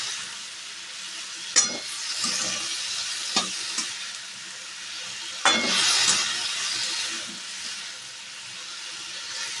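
Red amaranth greens (lal shak) with turmeric fried in a pan: a few sharp spatula scrapes and knocks over a continuous gentle sizzle, heard close and with no voices.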